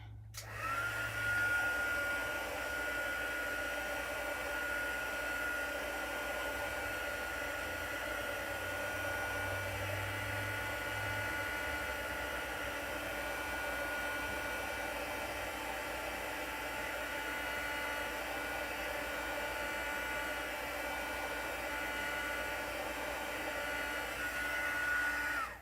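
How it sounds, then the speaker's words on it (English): A heat gun blows hot air in a continuous, even whoosh that holds steady close by for the whole stretch, with no voices over it. "Heat gun alert."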